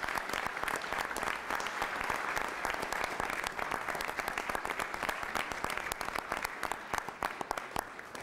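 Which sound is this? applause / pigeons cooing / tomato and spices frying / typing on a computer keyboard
applause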